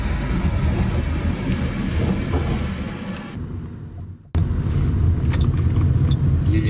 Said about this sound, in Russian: Едем по хайвею, платная дорога, она вроде как это быстрее, без пробок.